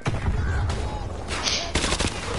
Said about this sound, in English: Roach, lay down some fire on the intersection.